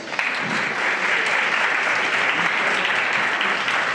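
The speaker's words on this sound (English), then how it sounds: "Please give them one more round of applause." A pitch-day audience applauds in a dense, steady roar of clapping that stays loud and even throughout, with no voices over it.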